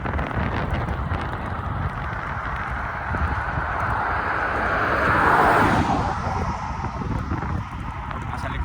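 Wind rushing over the microphone while cycling outdoors at sunset, a steady broadband roar that swells to a louder gust midway before easing back.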